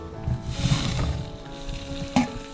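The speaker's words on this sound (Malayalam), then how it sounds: "കാൽ കപ്പ് സബോള കാൽ കപ്പ് ക്യാപ്സിക്കം എല്ലാം കൂടി ഒന്ന് നന്നായിട്ട് വഴറ്റിയെടുക്കാം" Quarter cup each of onion and capsicum sautéing in oil in a pan for creamy white sauce pasta, a steady close sizzle with a brief sharper clink of stirring near the end.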